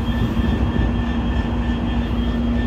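A Sounder commuter train rumbles past Everett Amtrak Station, Washington, steadily, a loud continuous roar with a faint tonal hum on top.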